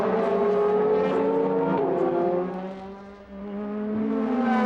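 DTM touring race cars from the 2007 season battle wheel to wheel, engines roaring loudly with rising and falling harmonic whines as they pass, a brief dip in volume before another car sweeps close by.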